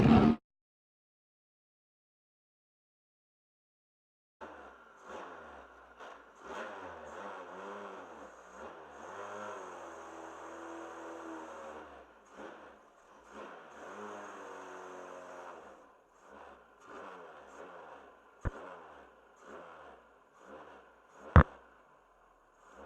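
A Swift DB1 race car circulates on a track, its engine note rising and falling through gear changes at moderate distance, with brief knocks and clicks near the end and silence at the start.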